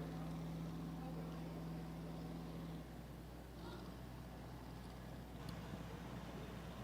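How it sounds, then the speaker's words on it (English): A David Brown tractor rolls across during a historic farm days tractor parade, its engine a steady low rumble heard at a moderate distance among outdoor noise, with no speech. "Here we have another David Brown coming across here."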